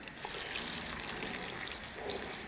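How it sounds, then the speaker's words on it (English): Boiling water from a kettle pours steadily over a cup of dried cherries, a continuous close splashing gush with no break. "just cover that with boiling water."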